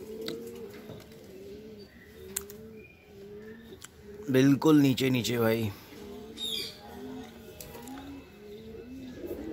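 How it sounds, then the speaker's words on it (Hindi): Pigeons coo repeatedly in the morning, rhythmic soft calls close by, with a burst of flapping wings as the flock takes off midway; someone speaks briefly. "तो बॉस कबूतर उड़ रहे हैं आज,"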